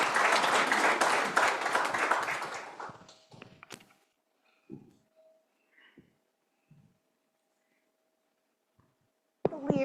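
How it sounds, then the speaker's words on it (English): An audience at a team meeting gives a burst of applause that fades out within about three seconds, followed by scattered thumps and footsteps in a quiet room before a loud noise at the end. "Give them a round of applause"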